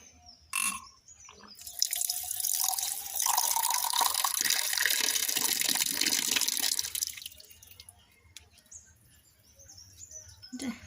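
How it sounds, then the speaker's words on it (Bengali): Water runs from an outdoor tap in a loud, steady broadband rush for several seconds, then cuts off, leaving quieter dripping and trickling, with frogs and birds faintly audible in the background. "ইস, একটু কলটা ছেড়ে দিই।"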